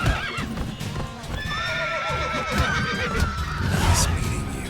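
Hooves clip-clop and a horse neighs loudly in The Witcher III, with several whinnies rising over the steady thud of hoofbeats.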